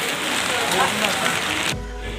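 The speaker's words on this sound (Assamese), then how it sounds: "বহুত বৰষুণ দিছে" Heavy rain in Shillong pours down in a dense, steady hiss that cuts off abruptly near the end, leaving a low hum.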